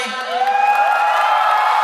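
A concert crowd of fans at a sound check for a song claps and cheers, building into a sustained roar of whoops and shouts with a bright ringing tone over it.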